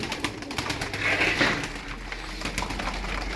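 Domestic game pigeons in a breeder's loft coo softly, a short burst of throaty calls over quiet background shuffling, near and moderately loud.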